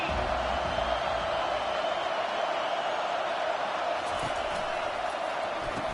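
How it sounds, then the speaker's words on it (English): A packed stadium crowd at a Spartans football game roars a loud welcome at the opening kickoff, a steady dense wall of noise with no pauses throughout. "This crowd bringing an ear-splitting welcome to their visitors."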